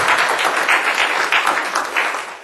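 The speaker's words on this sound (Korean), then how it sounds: "우리 한번 박수 한번 보내주실까요?" Applause from a church congregation at a Korean Baptist service in Huntsville, a dense, steady round of clapping that tapers off toward the end.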